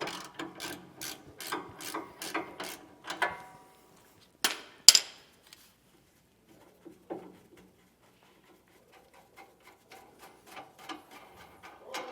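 Ratchet wrench loosening a nut on the front sway bar end link of a 2023 Ford E-Series van, with bursts of rapid clicking strokes early, then sparse faint clicks and small metallic taps, fairly close.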